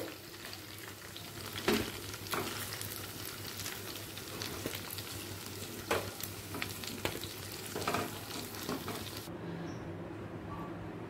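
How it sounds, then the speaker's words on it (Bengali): Paneer cubes frying in oil in a pan for chilli paneer: a steady close sizzle with occasional spatula stirs and scrapes, no talking, the frying continuing evenly before cutting off near the end. "হালকা করে ভেজে তুলে রাখবো"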